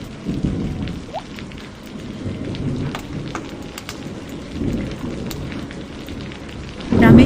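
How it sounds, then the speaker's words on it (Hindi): Heavy rain pours steadily while low rolls of thunder rumble through, swelling loudly again near the end. "बारिश की पहली तेज बूंदें गिरने लगी थीं"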